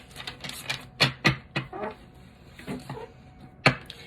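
A deck of cards riffled and shuffled several times, sharp bursts of crisp papery flutter and snaps separated by quieter handling, close and moderately loud with no talking.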